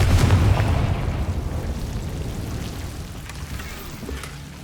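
Fire-blast spell explosion from the Confringo curse in the video game Hogwarts Legacy, a booming burst at the start that rumbles and fades away over several seconds with no talk.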